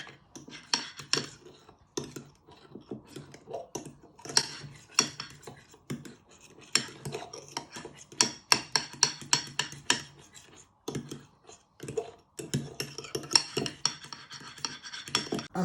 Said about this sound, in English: you want to give it a bit of a stir. Get all the way round and the sides of the bowl.